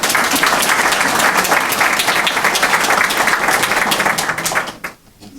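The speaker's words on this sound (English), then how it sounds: "Round of applause." Audience at an award recognition event breaking into dense, loud applause that holds steady for several seconds before fading out quickly at the end.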